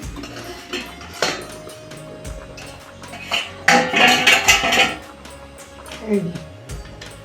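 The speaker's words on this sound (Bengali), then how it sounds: "দশ মিনিট পরে ফিরে আসছি দেখি ডাকনা তুলে" A cook lifts the lid off a pot of steamed rohu fish roe on a home stove. It gives a few metallic clanks and clatters, with one louder knock in the middle, while a person talks steadily over the sounds.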